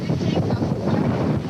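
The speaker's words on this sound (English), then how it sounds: "You can hear the wind picking up." Hurricane wind picking up in the Florida Keys, a steady rushing roar buffeting the microphone with gusty, turbulent rumble throughout, no clear voices.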